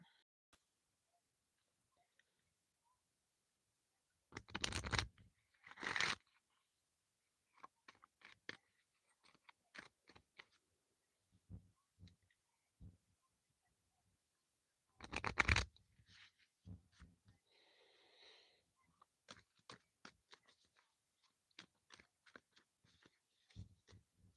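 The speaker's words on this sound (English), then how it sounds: "The tarot that doesn't want to shuffle anymore" Bursts of dry, riffling tarot card shuffles, two louder flurries then scattered softer shuffling and handling noises, close by with quiet gaps between.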